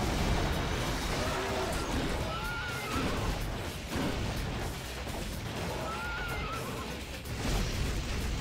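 Geryon's horse from Devil May Cry 3 neighs twice amid dense game noise, its whinnies rising over constant rumbling, clattering battle effects.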